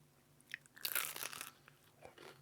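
Someone bites into a crispy McDonald's festive mince pie, a close, fairly quiet crunch of the fried coating followed by softer chewing, with no talk.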